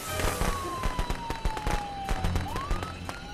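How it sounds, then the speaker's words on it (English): Fireworks going off in Friday the 13th: The Game, a rapid, dense string of loud crackling pops and bangs with a whistling tone sliding through them. "Fireworks!"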